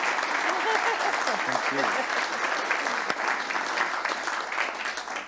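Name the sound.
audience applause after interview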